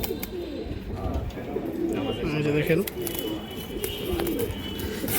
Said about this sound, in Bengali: মাশাআল্লাহ একটা পেয়ার দেখেন, জাবরা স্টাইলের সবুজ গলা কবুতর দর্শক